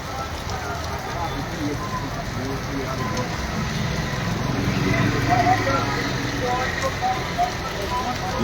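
Heavy rain pours down on a Srinagar street, a dense, steady hiss of drops on surfaces with crackling patter, holding constant and swelling slightly louder toward the end.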